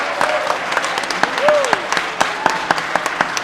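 A small audience claps on cue, scattered sharp individual hand claps standing out over a softer bed of applause, with a brief voice sliding upward partway through.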